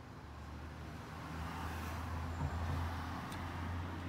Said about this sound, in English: only 3 cars went past in 5 minutes